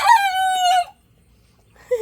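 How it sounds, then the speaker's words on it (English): A young rooster attempts a crow, one strained, wavering call lasting under a second, then silence before a brief start of another call at the end. "He's just learning how to crow"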